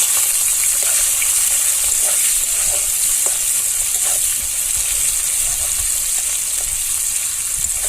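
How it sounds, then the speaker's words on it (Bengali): Onions fry in a pan with whole cumin and bay leaf, giving a loud, steady sizzle close up with occasional faint stirring clicks, and no talking over it. "এবার গোটা জিরে দিয়ে দেবো আর তেজপাতা এবার পেঁয়াজ দিয়ে দেবো"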